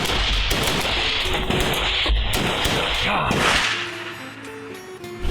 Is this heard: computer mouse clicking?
no